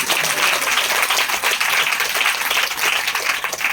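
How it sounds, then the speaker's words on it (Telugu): A church congregation at a temple inauguration service breaks into dense, sustained applause that stays loud and even throughout, many hands clapping together close by. "చప్పట్లు కొట్టడానికి."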